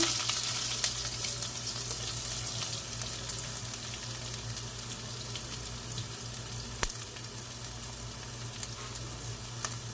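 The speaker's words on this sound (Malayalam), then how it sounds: "ഇനി നമ്മൾ അരിഞ്ഞു വെച്ചിരിക്കുന്ന സവാള അങ്ങോട്ട് ഇട്ട് കൊടുക്കുക" Chopped onions fry for an egg curry, sizzling steadily in a pan. A constant close hiss runs throughout with a few faint clicks and a low background hum, and no voices are heard.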